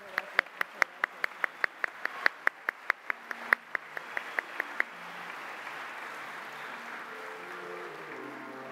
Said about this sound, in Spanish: Un fuerte aplauso otra vez para estos jóvenes talentos.